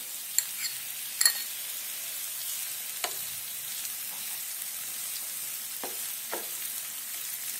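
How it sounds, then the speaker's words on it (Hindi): Steady sizzle of chopped tomatoes frying in a pan, with a few sharp clinks and stirring scrapes scattered throughout. "टमाटर को सॉफ्ट होने तक भून लेंगे।"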